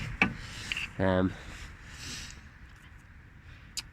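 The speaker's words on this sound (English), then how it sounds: "in order to compress the piston of the caliper, I just like to wedge something in the disc and then try and push the caliper back" A brake caliper piston on a 2006 Volkswagen Polo 1.4 TDI is levered back with a tool wedged against the disc, giving a short grinding rub of metal, with a few light clicks and scrapes around it.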